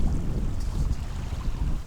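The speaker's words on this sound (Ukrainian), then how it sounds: "Вітер піднявся, аж сьогодні буде поривистий такий." Gusty wind buffeting a microphone outdoors during winter fishing, a loud low rumble that surges and eases in waves, with possible water lapping beneath.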